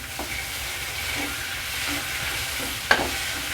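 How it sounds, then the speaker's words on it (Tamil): Curry leaves, green chillies and tomatoes sauté in a pan for a roasted-gram kurma, giving a steady, close sizzle and hiss with a few light stirring scrapes and one sharper clink near the end. "இப்போ கருவேப்பிலை போட்டுடலாம் பச்சை மிளகாய் தக்காளி இது எல்லாத்தையும் போட்டு வதக்கிடலாம்"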